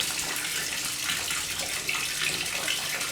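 Strong water gushes from a Samsung washing machine drain hose, a steady, close, hissing rush that stays even for a few seconds with no pauses.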